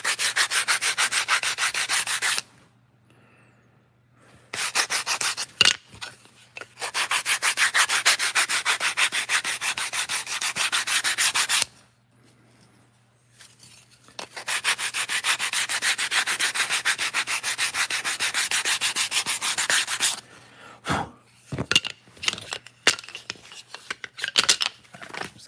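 Wood is sanded by hand for a miniature dollhouse diorama accent wall, heard as long bursts of dry, gritty rubbing strokes separated by short silent pauses, ending in a few choppy scrapes, close and clear.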